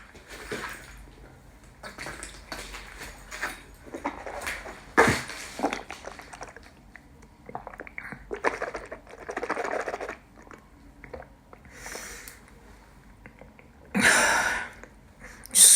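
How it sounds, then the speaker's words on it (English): Close, quiet mouth sounds of someone drinking water: wet sips, gulps and swallows come in irregular bursts among soft clicks and handling noises, with a louder gulp near the middle and another near the end. "Just swallowed a mouthful of water."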